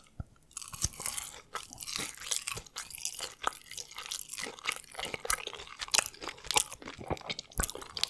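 Crispy fried SPAM bitten and chewed up close, a steady run of sharp crunches and wet chewing sounds with no talking.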